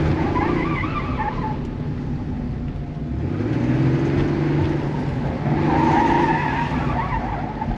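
A 1990s Porsche 964 with Tiptronic gearbox, held in first gear, accelerates hard with an engine roar and continuous tire squeal that swells and fades, close and loud throughout.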